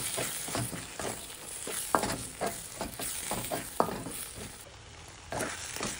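A spoon scrapes and stirs tomatoes frying in a pan with chili powder and garam masala. Soft sizzling runs underneath the irregular stirring strokes, close up, with no talk.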